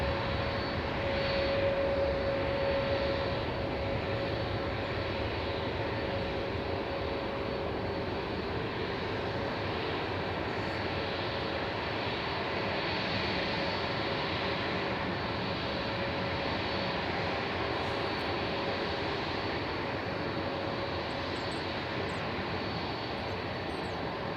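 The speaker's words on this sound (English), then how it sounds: "we've got the EasyJet going to Paris. Airbus A320-200, registration EZWC" An EasyJet Airbus A320-200 airliner passing outdoors, a steady, broad engine roar with a faint tonal whine running continuously at moderate distance, without pause.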